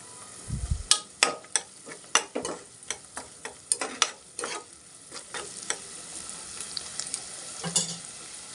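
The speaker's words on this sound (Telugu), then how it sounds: "ఇందులో పచ్చిమిర్చి వేసుకుందామండి. వేగుతున్నాయి కదా." Green chillies sizzle in hot oil in a pan for brinjal egg curry, a steady low frying hiss under repeated sharp scrapes and clacks of a spoon stirring, close by and brisk, easing off toward the end.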